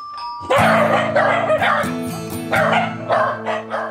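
Several dogs bark loudly and repeatedly, overlapping each other in close, rapid bursts, with a doorbell-like ding-dong tone sounding just before the barking begins.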